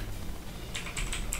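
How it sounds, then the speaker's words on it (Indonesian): Commands typed on a computer keyboard while installing TWRP on a Redmi Note 9 produce a short burst of quick, close keystroke clicks over a low background hum. "Pertama-tama kita ketikkan"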